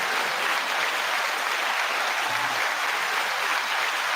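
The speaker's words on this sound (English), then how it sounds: "9 second applause to you all." Steady, dense applause from an audience fills the whole span at an even level, with no voices standing out above it.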